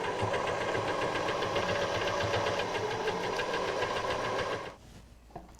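A sewing machine runs steadily stitching piping, its fast rhythmic needle chatter loud and close before cutting off abruptly near the end, leaving a quiet room with a faint click.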